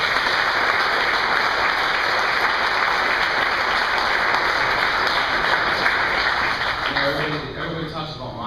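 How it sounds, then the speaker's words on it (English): An audience at the Downtown Athletic Club applauds for Robert Tillman, dense sustained clapping from a large crowd that stays loud and then thins slightly toward the end, with a faint steady hum underneath. "give another round of applause for my best friend, my brother Robert Tillman, for a great speech."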